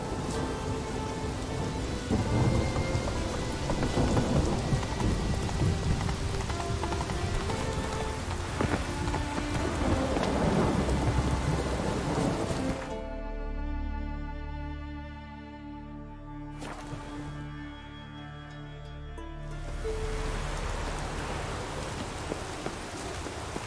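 Heavy rain pours steadily in a Witcher 3 game scene, with a rumble of thunder rolling through midway, then the downpour continuing, no voices.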